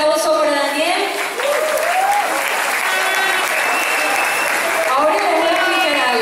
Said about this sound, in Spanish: Fuerte el aplauso para Daniel.